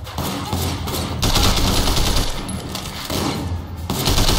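Shotgun gunfire in the Sleeping Dogs video game: several loud, harsh blasts in quick succession amid a dense barrage of in-game combat noise.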